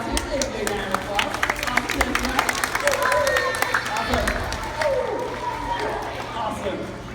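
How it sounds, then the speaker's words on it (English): An audience at a skateboard science show applauds four volunteers with a lively round of clapping, mixed with crowd murmur and a presenter talking over it. "let's give our 4 volunteers a big round of applause"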